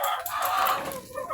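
On a farm with over a hundred laying hens, chickens cluck and murmur in a dense, continuous flock chatter close by, with no talking.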